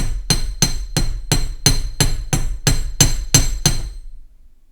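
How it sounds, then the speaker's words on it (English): A small hammer strikes a curved wire earring piece to flatten it, about eleven sharp, evenly spaced metallic taps ringing briefly, close and loud, then stopping. "Take your hammer and strike this curve a few times, just gently, until it flattens and hardens."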